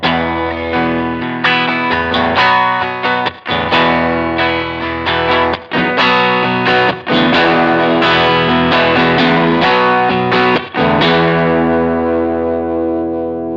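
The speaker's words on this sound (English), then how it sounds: "It goes from a clean Fender amp to 2 amps, both overdriven." An electric guitar played through a Line 6 Helix patch that moves from a clean Fender amp tone into two overdriven amps in stereo, loud and sustained with chords and ringing notes, chorus and reverb; no speech.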